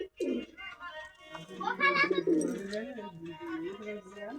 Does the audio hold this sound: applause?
no